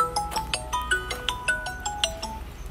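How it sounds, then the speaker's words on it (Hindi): A phone rings with a repeating electronic melody of short bright tones, fairly close and clear, with no talking. "जैसे ही वीडियो शूट कर रही थी वैसे ही फोन बज गया"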